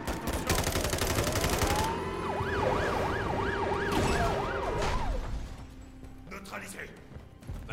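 Police car siren wailing in Modern Warfare III, a rising then rapidly oscillating yelp that holds for several seconds amid gunfire and engine noise, with voices talking over it.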